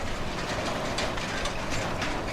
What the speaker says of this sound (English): An impressive road train featuring a Fendt 1050 Vario pulling 10 HW80 trailers with a total weight of 118 tons.